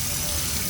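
Water gushes steadily from a tap for under a second while lash product is rinsed off, close and moderately loud.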